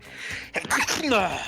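A single close sneeze with a sharp intake and explosive burst, followed immediately by a person talking.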